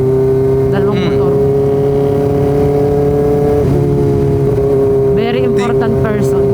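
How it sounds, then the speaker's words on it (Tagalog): Two motorcycles pass close by on a ride near Kaybiang Tunnel, their engines a loud steady drone with rising revs, heard over the rider's own ZX4RR engine hum. "Dalawang motor."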